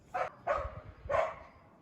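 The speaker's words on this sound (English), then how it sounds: "Sorry, my dog won't stop barking." A dog barks three times in quick succession, close by and fairly loud, in a quiet spot on a pitch-black night.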